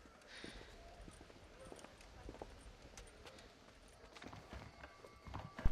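Horse hooves clip-clop at a walking pace in the Red Dead Redemption game, a steady run of soft thuds under a low background bed, growing louder and closer near the end.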